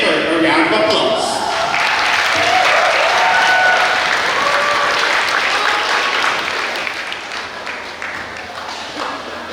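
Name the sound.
audience applause at graduation ceremony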